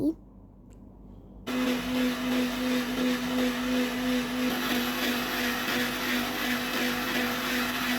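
A kitchen blender whirs into life after a short quiet moment, then runs at a steady loud buzzing drone while blending pomegranate juice.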